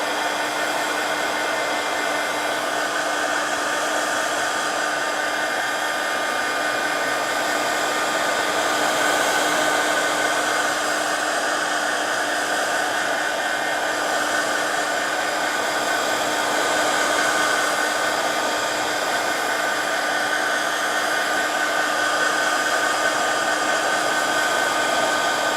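A hair dryer blows steadily and close up for the whole stretch as it dries a wet watercolor background made with Distress inks on paper, giving a constant even whoosh with no voices.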